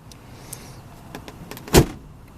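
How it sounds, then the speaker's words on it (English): A few light clicks and rustles, then a single solid thunk of a Honda motorcycle's trunk lid shutting, close and brief. "That's all the noise you hear when you close the trunk on it."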